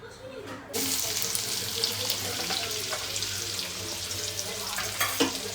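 Yogurt-marinated chicken dropped into leftover hot oil in a pan, a loud hiss that bursts in suddenly, then a continuous dense sizzle close by with a sharp spatter near the end.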